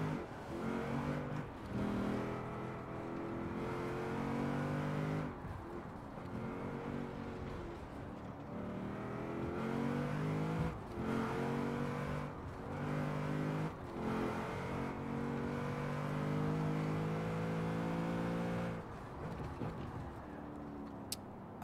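A car engine in Forza Horizon 4, driven with a wheel in cockpit view, revs up repeatedly through rising gear sweeps with brief drops at each shift, loud and sustained.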